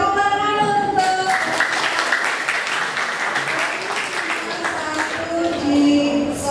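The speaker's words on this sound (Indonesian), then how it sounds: "Oke, tepuk tangan untuk" Audience applause at a school quiz semifinal (LCC competition), a steady wash of clapping from a group that swells and holds for several seconds, with faint voices mixed underneath.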